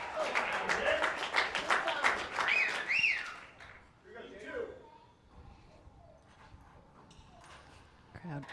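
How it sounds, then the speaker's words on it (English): Crowd at a match cheering and clapping for a player close to closing it out, a dense burst of applause and shouts up front that thins into scattered claps and murmurs, with a whistle cutting through. "Crowd cheering Jake on"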